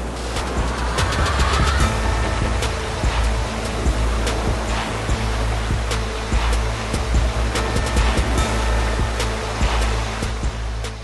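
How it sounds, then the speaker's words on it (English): A Renault Duster SUV in all-wheel drive fords a river, with steady rushing water and splashing churning throughout under a low engine drone, loud and close without any talk. "Like the Thar, the Duster too makes the river crossing look easy."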